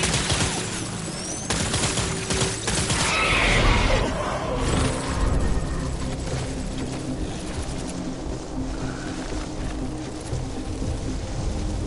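Gunfire crackles in a rainy Death Stranding firefight, a dense fusillade of shots and impacts that swells loudest early on, then thins into scattered distant bursts under a steady wash of rain.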